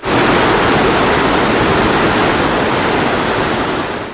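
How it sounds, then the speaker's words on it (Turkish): Loud, unbroken roar of Tomara Waterfall in Şiran, Gümüşhane, Turkey, dense rushing white foaming water filling the whole clip without pause. "süt beyazı renginde köpük köpük akan suyun oluşturduğu sesin kuş seslerine karıştığı Tomara Şelalesi"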